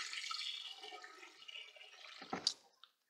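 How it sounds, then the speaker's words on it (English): Water poured into a dirty deep fryer during cleaning, a soft hissing, gurgling flow that tapers off, followed by a couple of brief clunks near the end, quiet and close. "I pour in about 2 cups of water here."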